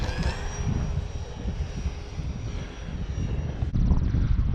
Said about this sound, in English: Gonna fly the air tractor again today.